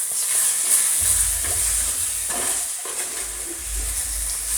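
Marinated prawns hit a hot pan for a Kerala-style prawn curry and sizzle loudly, with a steady frying hiss and occasional stirring scrapes, close and with no talking.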